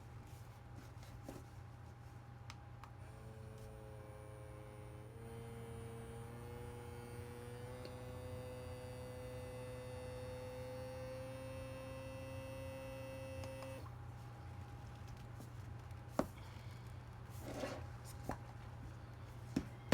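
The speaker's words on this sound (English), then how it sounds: "The device is automatic and the sealer will stop as soon as the jar is sealed and all the air is removed." An automatic jar vacuum sealer runs with a steady electric motor hum, its pitch shifting as air is drawn from a jar of homemade shelf-stable jambalaya mix, then cutting off once the seal forms, leaving quiet room tone and a few light clicks.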